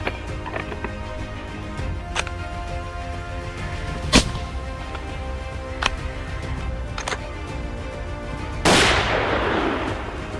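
Gunfire during a wild boar hunt in Florida: several sharp, isolated cracks at uneven intervals, ending in one louder blast with a lingering rumbling tail, heard outdoors without talk.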